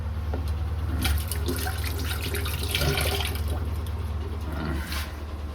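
Hands washed under a running kitchen tap, a steady close stream of water splashing into a sink with small shifts as the hands move.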